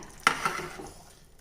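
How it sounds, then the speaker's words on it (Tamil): Rice with ghee being stirred inside a pressure cooker for biryani, a brief scrape of the spoon against the metal pot followed by a second softer clatter, close and fairly quiet with no talking. "இப்போ இது நல்லா பெரட்டி விட்டுக்கலாங்க."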